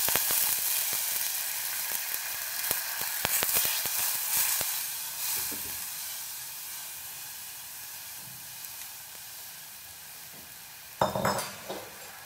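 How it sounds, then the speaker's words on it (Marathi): Thin juice and ground chili paste hit hot oil tempering for a Maharashtrian bhaji amti curry, giving a steady close sizzling hiss that slowly eases, with a sharp utensil clatter and a burst of spitting near the end. "मी फोडणीला पातळ रस आणि मिरचीचं वाटण टाकते"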